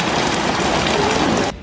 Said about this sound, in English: we have like a thunderstorm today and it's been raining all day